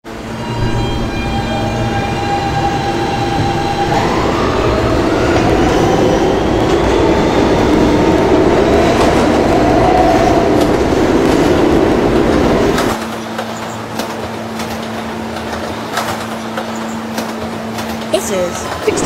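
A New York City subway R160B N train runs loudly and close by with a heavy rumble, rising motor whine and wheel clatter. A squeal appears before the noise drops abruptly to a lower steady hum as the train slows, and an announcement voice plays over it.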